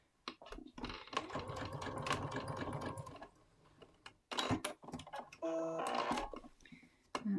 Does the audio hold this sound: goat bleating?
no